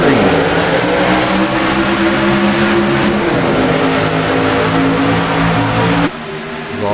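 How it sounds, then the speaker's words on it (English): Race trucks accelerate hard after a green-flag restart, a loud roar of several engines climbing through the gears together, with a commentator talking over the pack until the noise suddenly drops near the end. "With all these trucks, they start getting them up to speed."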